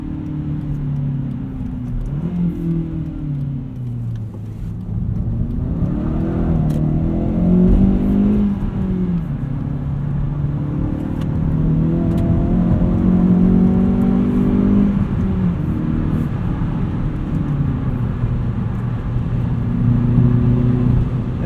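A 2016 Hyundai Veloster Rally Edition with a six-speed manual hums steadily from the cabin while driving, its engine note rising and falling through gentle revs, fairly quiet and continuous with no talk.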